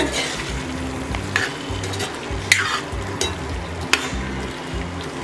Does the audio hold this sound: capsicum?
yes